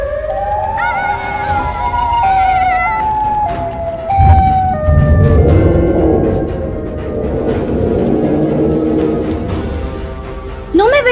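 A loud, wavering siren-like wail rises and falls over a dense, rumbling game soundscape, with a sharp rising sweep at the very end.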